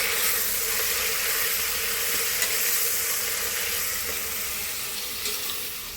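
Curry leaves, tomato, mint and chicken for chicken pulav sizzle and fry steadily in a pan, a close, continuous crackling hiss with no talking.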